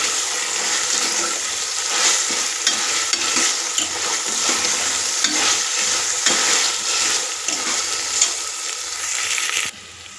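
Ginger garlic paste fries in a pan for a bamboo shoot and chicken curry, giving a steady, close sizzle with occasional stirring scrapes throughout, no voices.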